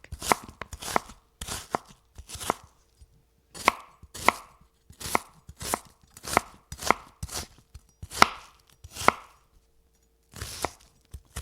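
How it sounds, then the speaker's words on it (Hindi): An onion is finely chopped with a knife on a board, a brisk run of about twenty crisp, close taps in quick bursts with short pauses, alone without talk. "फिर ले लेंगे हम प्याज, इसको कट कर लेंगे बारीक।"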